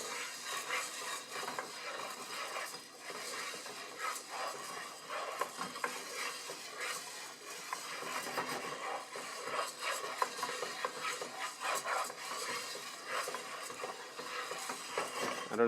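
Coffee beans roast in a pan under continuous stirring, a faint dry scraping and rattling with soft crackles that runs steadily and quietly with no voices.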